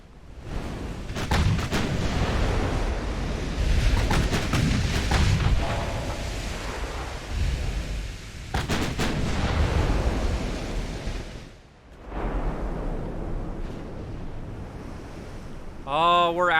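Warship main battery guns firing in the naval game Ultimate Admiral Dreadnoughts, heavy booming blasts over a steady roar of sea and wind, with a second burst after a lull and a brief voice at the end.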